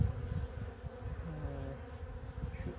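Honey bees buzz in a dense, continuous swarm around a varroa-infested hive that has been sprayed with oxalic acid, a close, steady drone with no voices.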